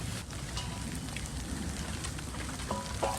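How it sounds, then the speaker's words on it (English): Light rain pattering steadily on a collard green garden, a soft continuous hiss with scattered drop ticks close by and no talking. "Starting to rain a little bit"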